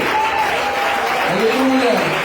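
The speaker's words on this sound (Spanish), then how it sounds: "Denle ese aplauso más fuerte para Él." Church congregation clapping for Jesus during a pastor's sermon, a steady wash of applause with a voice speaking and singing over it.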